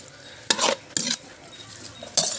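Duck offal is stir-fried in a pan, heard as three brisk scraping, sizzling strokes of a utensil against the pan, close and fairly loud, with quieter frying between them.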